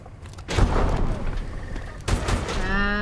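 Rapid automatic gunfire in the futuristic shooter Call of Duty Advanced Warfare, a dense sustained burst with sharp louder shots near the start and middle, ending in a rising electronic whine, with no talk.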